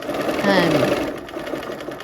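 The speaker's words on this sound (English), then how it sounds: "go ahead and do a back stitch when you get there" A sewing machine runs a short back stitch at a 1/4 inch seam, its motor whirring loud and close for about two seconds while a person talks over it.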